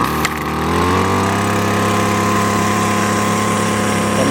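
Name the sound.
gas string trimmer engine starting and running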